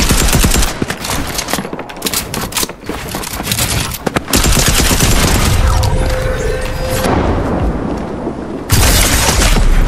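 A quad launcher in a video game unleashes a loud, dense barrage of rapid explosive blasts. The volleys break off briefly, then resume even harder, with mechanical clatter between them.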